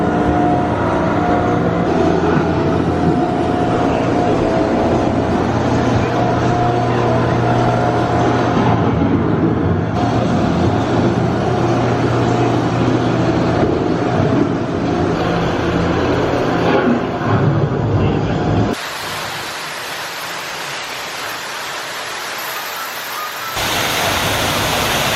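Living with the Land boat ride inside the EPCOT pavilion, a loud steady rumble and rushing noise of the moving boat and its surroundings that drops off abruptly near the end before a different broadband wash returns.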